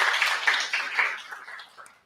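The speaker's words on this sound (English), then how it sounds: "can we give him a round of applause and just congratulate him on that accomplishment?" An audience applauds briefly, a short burst of clapping that quickly fades away.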